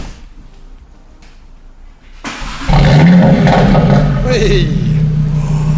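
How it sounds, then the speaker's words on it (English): An Audi RS3 with a Milltek non-resonated catback exhaust starts up with a sudden loud roar, then settles into a deep, steady idle. Excited voices are heard over it. "The initial startup of the Milltek Sport Performance exhaust."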